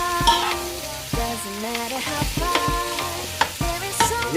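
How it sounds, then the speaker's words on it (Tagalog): Potatoes being sautéed in a pan with repeated stirring scrapes and soft sizzling, a steady close cooking sound with no talking. "Gigisa muna natin yung ating patatas."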